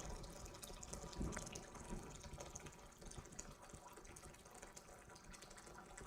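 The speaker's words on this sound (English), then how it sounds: "you could probably hear me dispensing the hot water right there" Hot water dispensed from a Zojirushi water boiler into a mug, a steady, fairly quiet stream with a soft filling gush and light splashing that runs on without pause.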